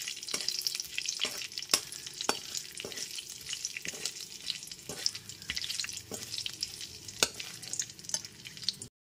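Whole cloves, cinnamon sticks, cardamom and cumin seeds frying in oil over a low gas flame, a continuous close sizzle broken by repeated sharp clicks and taps of a stirring spoon against the pan.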